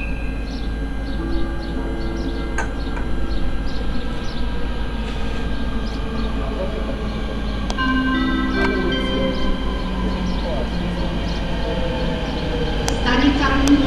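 A train arrives at a platform at Púchov station, a steady low rumble with squealing brakes and rolling wheels while a voice talks over it.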